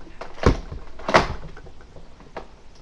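Door of a Mega Centurion Sonic Ice toy vehicle snapping shut, two distinct plastic clacks close to the mic about half a second apart, then a fainter tap.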